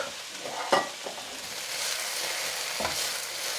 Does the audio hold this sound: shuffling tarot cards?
no